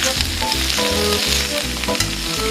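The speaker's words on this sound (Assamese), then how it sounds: "এতিয়া লৰাই লওঁ ভালকৈ।" Pumpkin leaves and cut eggplant fry in hot oil in a pan, a loud continuous sizzle with rhythmic stirring scrapes roughly every quarter second, close up and with no talking.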